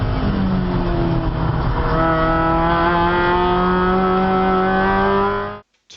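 A car driving through turn 10 at speed on the Phillip Island GP circuit: a loud, sustained engine note holding steady pitch with smooth, slight rises, close and continuous until it cuts off abruptly.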